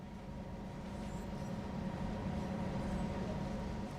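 A Canadian National GP9RM diesel locomotive in Train Sim World 2020 gives off a steady low engine rumble with a faint mechanical hum, constant and moderately quiet throughout.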